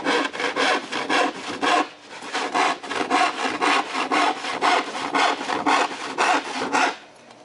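A hand saw cuts through plywood propped on a sawhorse, with steady rhythmic back-and-forth rasping strokes, close and loud, breaking briefly in the middle before the strokes resume.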